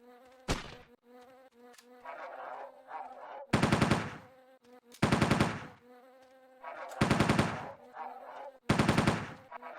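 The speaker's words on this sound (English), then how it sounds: "annoying buzzing sounds, it's the wasps nearby, as they have spawns all around" Wasps in the video game Entropia Universe give off droning insect buzzes, while loud bursts of rapid gunfire repeat at intervals, fairly close and without talk.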